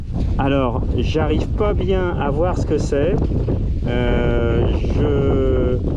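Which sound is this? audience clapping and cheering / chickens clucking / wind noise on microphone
wind noise on microphone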